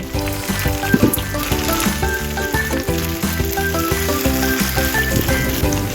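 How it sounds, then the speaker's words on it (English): Steady, loud sizzling of rice paper frying in a covered pan as excess water evaporates, with continuous crackling and popping throughout and no talking. "The excess water will evaporate while frying, and the rice paper will slowly fry until crispy"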